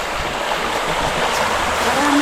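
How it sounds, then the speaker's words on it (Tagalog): River water rushing steadily along a shortcut path to the river, a broad continuous wash that stays close and fairly loud throughout. "Ito na yung ilog guys."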